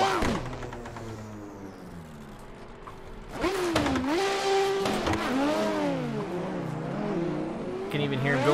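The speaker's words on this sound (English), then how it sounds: "That massive V10 in Eddie's R34 is so loud." A V10-swapped Nissan R34 drift car at a practice event runs nearby, its engine tone rising and falling through revs with faint tire noise, fairly loud against the open-air background.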